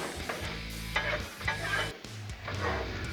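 Sweet potatoes and carrots crackle and hiss on a hot Blackstone griddle, a steady close sizzle broken by the scrape and clatter of a spatula stirring them several times.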